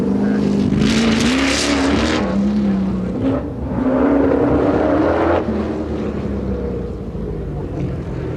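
A Ford GT40 race car engine roars loudly and continuously at a motorsport festival in Belfast, its pitch rising and falling as it revs through the gears, close and dominant throughout.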